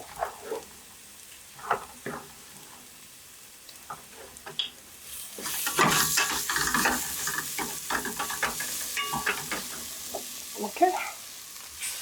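Minced meat and coconut fry in a pan while a utensil stirs, giving a steady close sizzle with scraping strokes that grows louder midway, and a brief spoken word.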